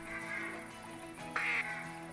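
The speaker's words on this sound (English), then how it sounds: "you got another nice flock of ducks coming this way, and this actually looks like some greenheads" A mallard drake's quack in TheHunter Classic duck hunt, one short raspy call rising out of a steady ambient wetland bed before the quiet background returns.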